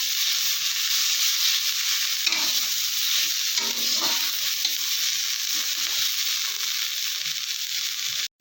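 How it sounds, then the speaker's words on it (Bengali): Gourd leaves stir-fry with black cumin in a pan, a constant loud hiss and sizzle with faint scraping from stirring running throughout, ending abruptly. "এখন এই কালো জিরাটা দিয়ে দেবো। দিয়ে বেশ কিছুক্ষণ নাড়াচাড়া দিয়ে নামিয়ে নেব।"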